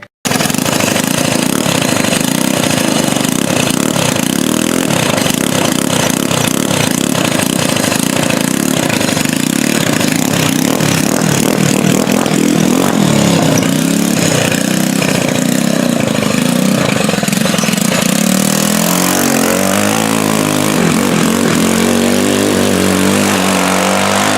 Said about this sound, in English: get in there and rev it up, Dallas.